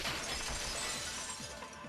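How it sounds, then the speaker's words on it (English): Window shattering sound effect in Danganronpa 2, a burst of bright crackling glass fragments tinkling densely throughout, fairly quiet and alone. "Heard the sound of the window shattering."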